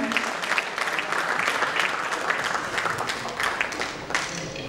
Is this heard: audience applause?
yes